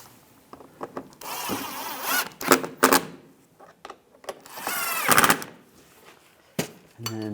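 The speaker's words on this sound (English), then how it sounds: "Underneath, put these two screws in. Tighten those down." Screws being driven into the underside of a Buick Enclave front bumper, with bursts of whirring and ratcheting from a hand tool, separated by clicks and short pauses; no talk.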